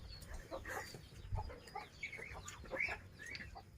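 Several chickens cluck and squawk softly nearby in short, irregular calls, with faint low background noise.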